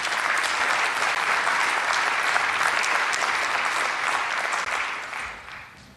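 A large audience applauds speakers at a university research centre announcement at MTSU, sustained full clapping that holds steady for several seconds, then thins and fades toward the end.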